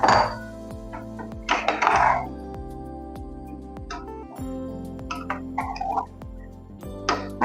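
Boiled pasta gets stirred in a pan with a utensil, giving intermittent scraping clinks and clatter spread over several seconds above a steady background hum.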